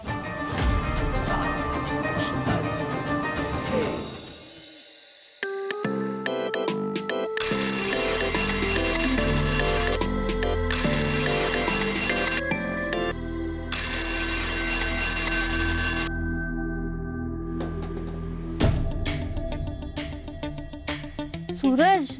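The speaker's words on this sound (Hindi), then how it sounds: "तुमने ही 4 बजे का अलार्म लगाया था ना" Alarm clock set for 4 o'clock ringing in a home, loud bursts of electronic ringing repeating in regular blocks, with music and brief talk around it.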